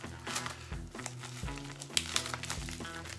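Packing-taped bubble wrap around a trading card is pried open by hand, with close, irregular plastic crinkles, crackles and tape pulls over quiet background music.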